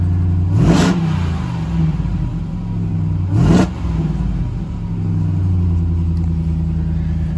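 A 2022 Ram 1500 TRX truck engine rumbles steadily at idle, with two sharp, loud revs rising and falling away, one early and one midway, over a deep continuous exhaust drone.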